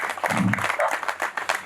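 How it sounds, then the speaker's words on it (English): Applause at an awards ceremony at a trade show, a short burst of clapping from the audience that blends with voices and a low murmur throughout. "Can you give me a round of applause for them guys down there"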